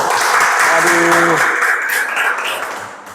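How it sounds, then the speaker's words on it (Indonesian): Classroom audience applauding a student, the dense clapping steady for about two seconds and then thinning out, with a brief voice speaking over it in the middle. "Tepuk tangan dulu dong"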